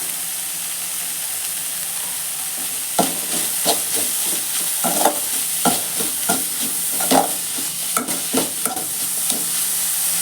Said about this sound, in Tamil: இது வேக வச்ச ப்ராக்கலின்றதுனால நம்ம அதிகமாக வதக்க தேவையில்லை.